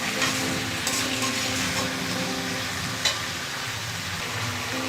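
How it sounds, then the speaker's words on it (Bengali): Chicken pieces and potatoes are stirred together in a pan, with a continuous close sizzle under scraping strokes of the spoon and a few louder knocks against the pan. "আলুটা মিশিয়ে দেবো।"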